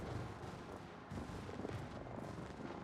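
Airstrike explosions in a competitive naval warfare video game match come as faint, dense booms and rumbling blasts that roll on continuously, with no talk over them.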